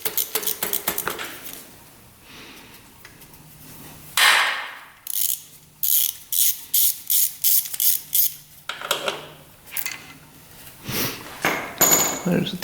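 A ratchet wrench clicks in quick bursts while removing the cam chain tensioner bolts from a modded race quad engine, with close, loud metallic ratcheting separated by short pauses and some talk.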